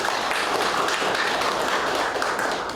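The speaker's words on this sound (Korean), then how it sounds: "여러분 박수로 맞아주시기 바랍니다." Audience at an academic conference marking the anniversary of a Nobel Peace Prize applauding to welcome a lecturer, a steady, full, continuous roar of many hands clapping.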